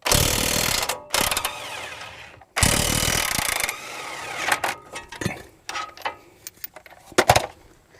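An impact wrench loosens the front caliper bracket bolts on a 2011 Ford F-150, two loud hammering bursts up close, then lighter clicks and rattles of tools and parts.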